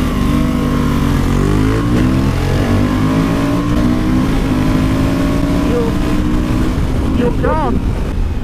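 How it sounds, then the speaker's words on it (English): A Honda Africa Twin and a Suzuki V-Strom 1050 adventure motorcycle drag race, their engines roaring loud and close and rising through the gears with shifting pitch, while speech comes faintly beneath the engine noise. "It's got to be a drag race."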